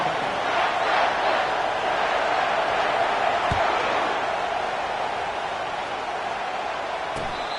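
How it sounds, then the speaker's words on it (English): Steady, broadband roar of a stadium crowd in an EA Sports College Football video game, a Wolverines game, holding at an even level throughout, with a brief thump midway. "This crowd trying to show them what it's going to be like all day in this house."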